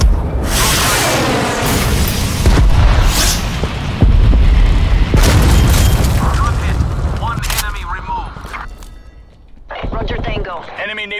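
Cruise missile strike detonating in a multiplayer shooter game, loud rolling booms and crackling blasts that fill the first several seconds before fading, with voices talking over parts of it.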